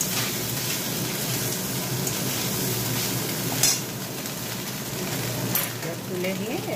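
A steady, soft sizzle of fish frying in hot oil in a home kitchen pan, continuous crackle with a couple of small spatter pops, faint and even throughout.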